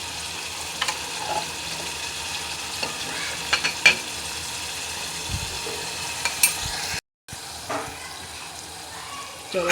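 A pot of cluster bean curry with garlic chutney bubbles and sizzles steadily while a spoon stirs and scrapes through it, with occasional clinks against the pot and a brief cut to silence.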